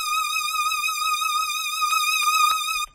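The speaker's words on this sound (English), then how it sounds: "Next, I got some distortion to dirty it up." A bright, wavering lead tone from a Serum synth, dirtied by stock tube distortion with drive at 35 and mix at 100, holds steadily with vibrato, with a few short clicks near the end before cutting off.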